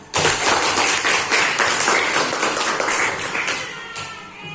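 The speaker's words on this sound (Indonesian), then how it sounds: "Tepuk tangan untuk kita semua." Classroom applause from students clapping together, a steady, fairly loud burst of many hands that holds for several seconds before easing slightly.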